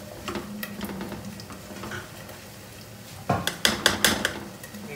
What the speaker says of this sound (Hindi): ये जी मैदा आ गया, मैदे को हिला लेना अच्छी तरह